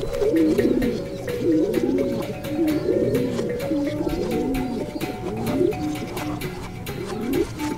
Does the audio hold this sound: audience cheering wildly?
no